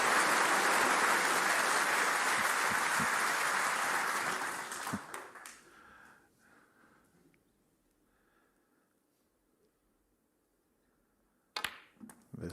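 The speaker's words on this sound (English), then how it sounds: "This Crucible crowd are buzzing." The crowd at the Crucible during the World Snooker Championship final bursts into loud, sustained applause that fades away after about five seconds, leaving near-quiet broken by a few faint knocks and a short clatter near the end.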